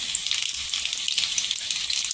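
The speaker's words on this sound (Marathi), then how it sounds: "इथे मोहरी टाकलेली आहे 1 चमचा. मोहरी छान इथे तरतरली पाहिजे." Hot oil crackles and spits with small rapid pops as seeds splutter, a busy close sizzle throughout.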